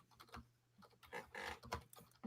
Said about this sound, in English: Sorry, I was too busy typing.